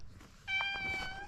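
Kittens meowing outdoors, a few short high mewing calls overlapping close by over faint outdoor background, at a forest heritage site in Hochatown, Oklahoma.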